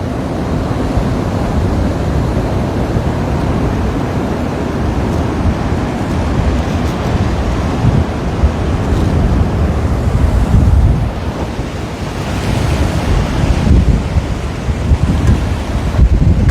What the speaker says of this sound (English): it's been blowy like this for almost all day.